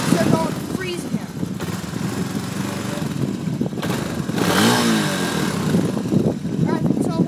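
A Honda TRX 250 quad idling after warm-up in a blizzard, a steady close engine rumble that rises briefly mid-way, with someone talking over it.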